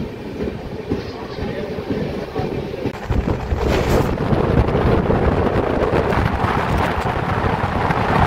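A passenger train on the Kagaznagar Superfast Express route pulls away from Bellampalli station, its steady rumble and rail clatter building louder after a few seconds with wind buffeting the microphone.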